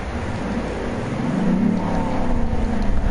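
Car engine running steadily in Car Mechanic Simulator, a continuous low drone that swells slightly in revs midway and holds at a moderate, even level throughout.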